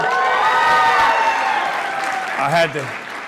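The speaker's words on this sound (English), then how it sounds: "I had to get a cheap applause break there" Audience applause and cheering fill a university lecture hall, loud and dense at first and then thinning, with a speaker's voice talking over the tail end.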